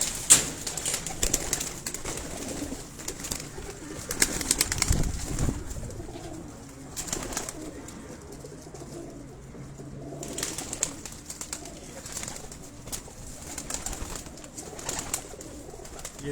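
Flying-breed pigeons, males kept by a breeder, coo softly with scattered calls and faint rustling over a quiet background, and the sounds come intermittently for several seconds at a time.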